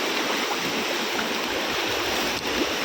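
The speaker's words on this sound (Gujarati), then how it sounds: "અત્યારે નીચે પાણી જાય છે." Steady rushing of flowing water, a continuous broadband wash like a stream running nearby, with no voices.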